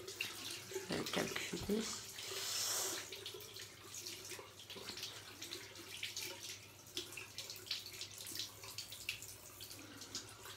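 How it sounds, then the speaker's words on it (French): Tap water runs steadily as hands are rinsed at a bathroom sink, a soft continuous splash with brief louder bursts near the start, and a voice speaks quietly over it. "je vais me rincer les mains"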